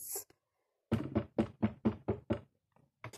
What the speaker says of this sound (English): Sounds like my door.